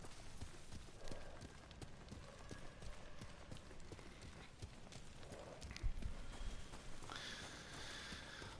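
Horse hooves clip-clop steadily at a trot in the open-world samurai game Ghost of Tsushima, a continuous rhythmic patter of footfalls with faint ambient sounds around it.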